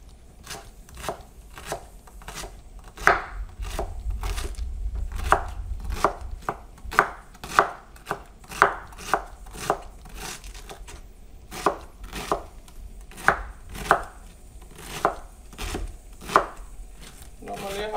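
A knife chops cabbage by hand on a board for shredding, sharp regular thuds in quick bursts, close and clear with no one talking.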